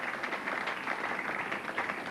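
A crowd applauds at Logan City Lanes during a 1989 Goldpin Classic tenpin bowling match, a steady wash of clapping from many hands in an indoor bowling alley, moderately distant and continuous throughout.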